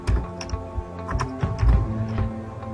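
Keys clatter on a computer keyboard in quick irregular bursts, close and fairly clear, with no voice over them.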